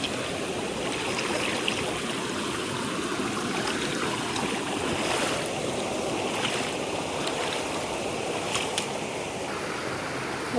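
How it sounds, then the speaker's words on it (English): Steady rushing and splashing of a stream as a hiker wades across it in the aftermath of Hurricane Helene, a continuous close wash of moving water with scattered brighter splashes throughout. "This is the second of 3 stream crossings."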